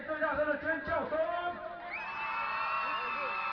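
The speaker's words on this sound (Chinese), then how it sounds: "来点最大声的尖叫声" A crowd at an outdoor fireworks party lets out loud whoops and screams, the shouting rising into a sustained roar of cheering from many voices at a distance.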